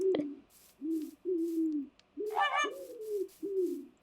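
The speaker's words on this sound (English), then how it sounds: "it looks like there's a bunch of other birds around here" Birds call in a Minecraft world running the Create: Above & Beyond modpack: a run of low, soft cooing notes in a steady rhythm, with one brighter, sharper call in the middle, heard close and clear with no talk.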